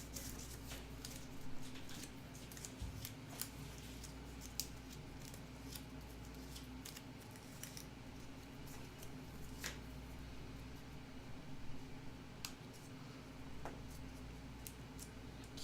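Scissors fussy-cut around a layered paper flower petal, producing faint, irregular little snips and crisp paper ticks spread over a steady low room hum, with no talking.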